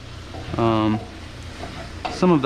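Tofu scramble with spices sizzles steadily in a pan as it is stirred, loud and close, with two brief tonal sounds riding over the frying.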